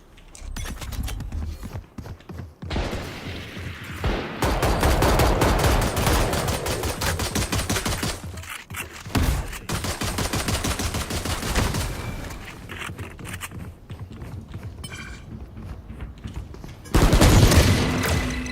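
Rapid bursts of gunfire from a shooter video game, with the Bulldog rifle, fire in repeated loud volleys nearly nonstop, brief pauses between salvos and a final sharp burst near the end.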